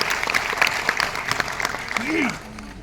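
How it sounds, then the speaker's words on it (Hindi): Applause greets a speaker at an LIC insurance agents' gathering, scattered claps over a room tone while voices talk and one rises in a sliding call near the end. "तो एक बार जोरदार ताली से सर का स्वागत करेंगे।"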